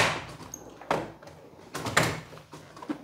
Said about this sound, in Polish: Pamiętaj tylko, że musisz zamknąć szufladę, żeby otworzyć następną.